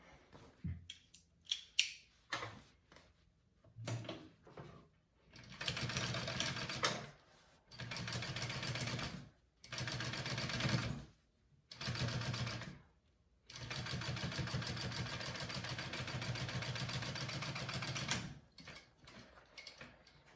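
A sewing machine top-stitching a fabric pouch runs in several bursts of steady whirring, some short and one long, separated by quiet pauses and mechanical clicks.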